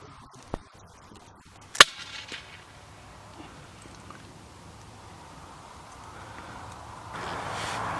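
An S200 air rifle fires a single sharp crack at a rabbit during a night hunt at long range, a brief transient standing out against quiet outdoor background with a fainter click just before it.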